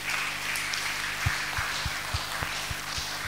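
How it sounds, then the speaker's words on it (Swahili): A church congregation at a children's certificate service applauds to thank the teachers, a dense, even wash of many hands clapping with a few heavier thumps. "tuwape makofi mengi ya kuwashukuru"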